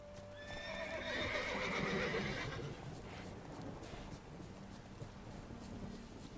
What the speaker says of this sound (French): Il y a un poney.